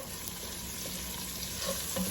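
Onions with garlic frying in a pan over medium-low heat for a moqueca fish stew, giving a soft, steady sizzle that stays quiet and even throughout, with no voices.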